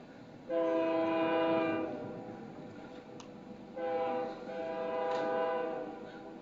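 A train horn blows two long, sustained blasts near the White Rock eagle nest, the second following a brief pause. It sounds moderately distant over a steady background hum.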